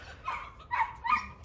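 Dogs give three short barks and whimpering yips in a loose rhythm, moderately close but not loud, with no voices over them.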